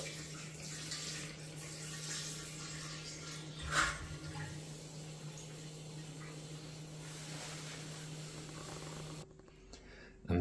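Cider runs through tubing into a keg in a home-brew setup, a steady close trickle and wash of flowing liquid with a low hum beneath, one brief splash partway, ending abruptly into near quiet.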